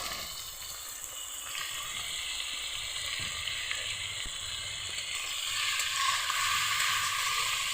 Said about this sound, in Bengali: লবণ হলুদ দিয়ে বেগুনটাকে একটু ভালোভাবে ভেজে নেব